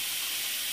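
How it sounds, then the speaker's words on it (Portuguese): A stovetop pressure cooker full of beans vents steam in a brief, steady, close hiss with no break. "feijão no fogo na pressão, na panela de pressão normal."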